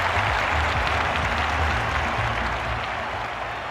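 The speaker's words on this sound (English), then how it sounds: "the crowd will react to that quite rightly" A large stadium crowd at the London 2012 Olympic athletics applauds in a dense, sustained roar of clapping that holds steady and fades slightly toward the end.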